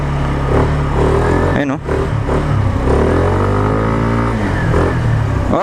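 A chain-drive Kymco KRV motorcycle engine revs loudly and close by, the pitch climbing and falling through repeated throttle blips, with one brief drop in the middle. Someone speaks briefly over it.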